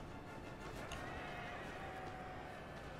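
Horses neigh in the Napoleon: Total War battle game, a whinny rising over a steady wash of battlefield noise and faint clip-clopping hooves.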